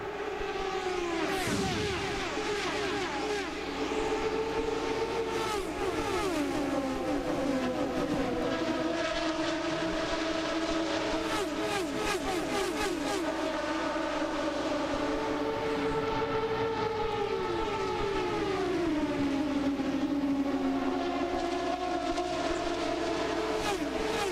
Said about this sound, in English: We're back to green flag racing at Homestead-Miami.